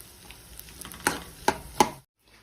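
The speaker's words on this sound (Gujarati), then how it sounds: "શેકાઈ જાય ત્યાં સુધી આપણે હલાવતા રહીશું, મિક્સ કરતા રહીશું" Edible gum roasting in a pan for sukhdi is stirred with a utensil, giving three distinct scraping strokes against a soft frying background before the sound cuts to near silence.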